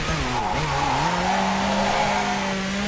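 A WRC-division rally car on Rally France in the WRC 4 video game skids under the handbrake, with loud tyre squeal over a droning engine whose pitch dips and then climbs steadily.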